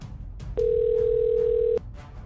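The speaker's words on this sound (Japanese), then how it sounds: "主人公が誰かに電話してるんだね。" A steady phone dial tone holds for just over a second in the live-action zombie game Press X to Not Die, ringing clear over a low background hum.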